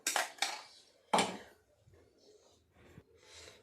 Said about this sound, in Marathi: जे भांड्याला राहिलेलं आहे ते पण थोडंसं पाणी टाकून आपण विसळून घेणार आहोत